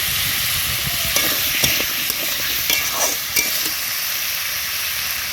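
Ginger garlic paste fries in a pan with a steady loud sizzle, broken by a few scraping stirs of a spatula, close up and without talk.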